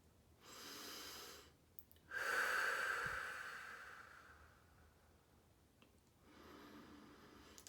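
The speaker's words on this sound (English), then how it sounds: "And you're just breathing." Slow, gentle breathing during eye acupressure for trigeminal neuralgia, a soft exhale swelling and fading, then a quieter breath near the end, close and unaccompanied by talk.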